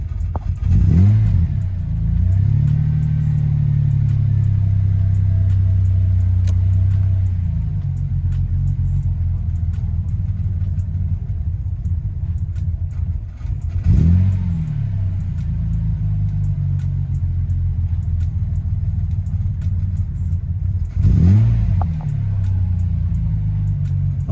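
A car engine runs at a rough, low rumbling idle that sags and then surges in brief revs at intervals, close and loud with no talk.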